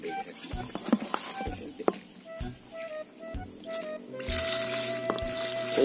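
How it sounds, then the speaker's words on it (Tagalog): Water from a tap runs and pours over fresh vegetables in a basin for washing, with clinks of bowls and light splashing, swelling into a steady rush near the end. "so lagyan natin ng tubig para hugasan."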